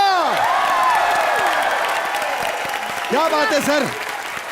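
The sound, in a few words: loud applause and cheering welcoming guests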